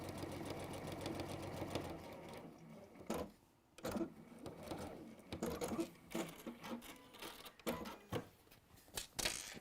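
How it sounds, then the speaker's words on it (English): A sewing machine runs quietly through a line of stitching, its rapid mechanical whirr starting and stopping in short bursts, with a few handling clicks between runs. "I'll just finish off this line of stitching"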